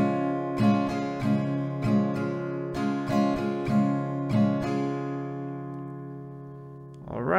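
An acoustic guitar strums a repeating down-up pattern from a song, with crisp rhythmic chord strokes played close and clear, then a sustained ringing chord fading out before a brief noise at the end.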